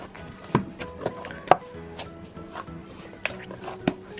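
Sweet bread dough worked by hand for pan doce com creme, with soft irregular slaps and thumps recurring every second or so, close by and fairly quiet, under ongoing speech.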